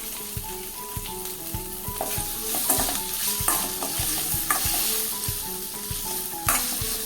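Potato pieces fry in hot oil with small green chilies and grated ginger while being stirred, a steady close sizzle under rhythmic scraping clicks of the spoon in the pan.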